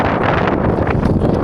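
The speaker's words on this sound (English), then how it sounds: "It's the uphill section and the wind is coming from the front." Strong headwind roaring into the microphone while cycling uphill during an Ironman 70.3 race, a loud, steady buffeting rush that fills the whole clip with no voices.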